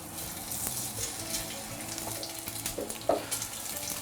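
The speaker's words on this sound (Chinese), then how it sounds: "接下来把这个切出来的这个油边呢，丢在锅里，让它先煎一会儿。" Trimmed beef steak fat fries in a little oil in a pan, a soft, steady sizzle with faint pops and crackles close by and no voices.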